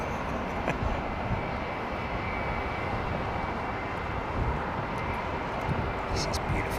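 An Airbus airliner with CFM LEAP-1A engines at London Heathrow produces a loud, continuous jet roar that holds steady for several seconds.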